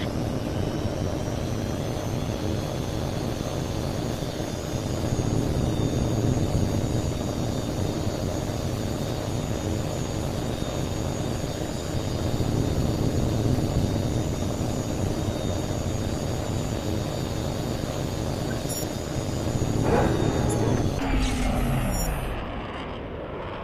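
A fighter jet in the video game H.A.W.X. 2 rolls out for takeoff, its engine a loud, continuous roar that pulses in waves and swells near the end.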